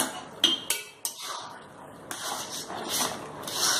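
A spoon clinks and scrapes against a pan while egg tadka made with ghee and coriander leaves is stirred, a few distinct knocks early on, then a steady frying sizzle underneath, fairly quiet.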